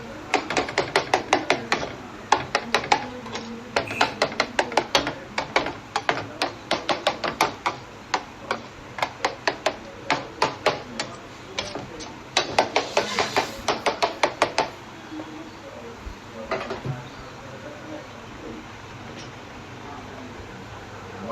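A knife smashing and chopping roasted eggplant on a board for bharit, with rapid rhythmic knocks in quick bursts and short pauses, close and crisp, fading to quiet near the end.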